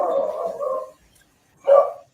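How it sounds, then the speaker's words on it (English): A dog gives two short, close barks separated by a brief silence. The first is longer and rougher and the second is a sharp single bark, with no voices. "Sounds like a dog to me."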